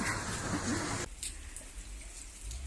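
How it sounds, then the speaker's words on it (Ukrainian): Heavy rain falls outdoors, with drops dripping from a roof. A dense, steady hiss fills the first second, then settles into softer patter with scattered drips. "капельки з даху капають"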